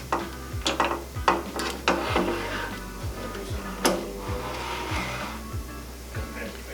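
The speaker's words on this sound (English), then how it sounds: "To attach your fixture, take your T-nuts, slide them into the groove." T-nuts slide and click into the groove of a pad printing machine, a series of small metallic scrapes and clicks over a steady machine hum.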